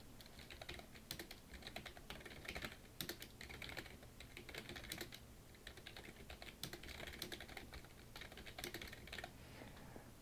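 Someone types on a computer keyboard, entering Korean text into a PowerPoint exercise. Quiet, rapid key clicks come in uneven bursts with brief pauses, close but faint, and no one speaks.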